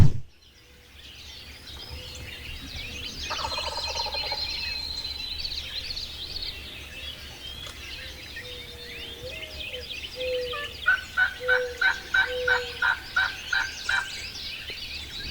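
A wild turkey gobbles over and over from a tree limb amid outdoor ambience, with a closer run of sharp rhythmic pulses near the end of the stretch.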